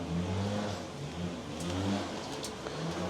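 A Toyota Tacoma engine with an exhaust leak runs steadily at close range, a low droning hum with slight rises in revs, faint higher ticking over the top and no voices.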